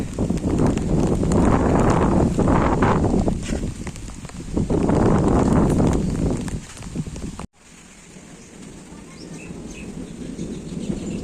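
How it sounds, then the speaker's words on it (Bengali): Loud, gusty wind roars in broadband surges, swelling and easing for several seconds before dropping abruptly to a quieter, steady rushing. "ঝড় ছেড়ে দিয়েছে ঝড়"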